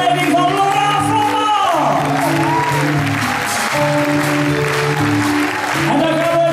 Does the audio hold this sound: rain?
no